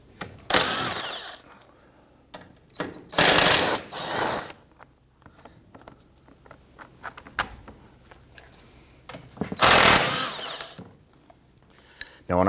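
Bursts of a power ratchet spinning out alternator bolts on a 2011-2015 Kia Sorento 2.4L four-cylinder, with three loud whirring runs separated by quieter clicks and handling noise up close.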